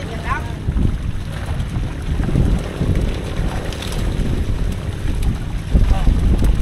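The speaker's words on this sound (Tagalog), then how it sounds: "Ayan na yung ating pang-saklit naman, yung bangka. Papasok na uli." A fishing boat loaded with milkfish coming back in: a steady low engine drone with wind buffeting and water wash, continuous and moderately close, with some voices in the background.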